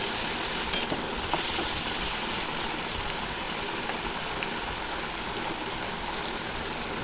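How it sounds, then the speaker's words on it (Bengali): Boiled banana flower stirred into spices in a hot pan, a steady close sizzle with light scraping and a few small clinks of the utensil. "ভালো করে আমি এই মশলার সঙ্গে মোচাটা মিশিয়ে নেবো নাড়াচাড়া করে"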